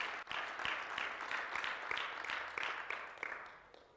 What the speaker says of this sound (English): Clap for the Lord.